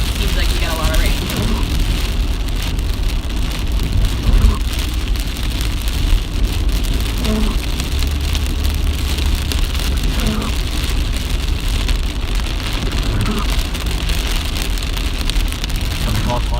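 Steady heavy rain drums on a car while driving toward New Jersey, a dense constant wash with low road rumble beneath and occasional faint tones, loud and unbroken throughout.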